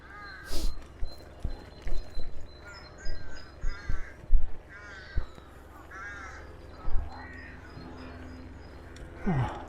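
Several crows caw outdoors on a fine day, harsh calls repeating in irregular bursts at moderate distance, with occasional clicks and light background noise.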